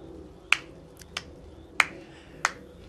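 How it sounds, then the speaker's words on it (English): A slow clap, four single sharp claps spaced about half a second apart, close and crisp over a quiet background. "I hope everybody can hear you doing the slow clap."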